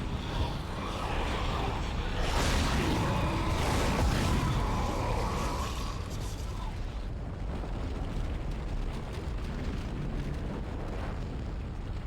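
An exploding enemy blowing up in the video game Dead Space, heard as a sustained loud rumbling blast with roaring debris that dies away into a lower hiss.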